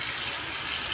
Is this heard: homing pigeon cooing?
no